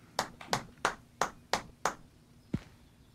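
A series of about seven sharp, evenly spaced hand claps sounds close by, followed by a duller thump.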